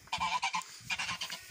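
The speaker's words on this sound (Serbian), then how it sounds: "Evo ova guska, onaj tamo." Geese honking close by in a backyard flock kept alongside pigeons, a quick run of loud, nasal honks followed by a second burst after a short pause.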